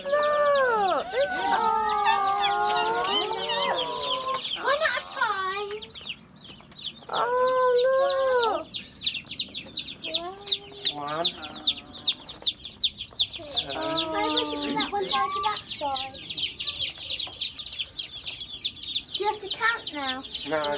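Chickens on a farm in Brittany cluck and squawk close by in repeated short bursts, with steady high chirping from young chicks running underneath throughout.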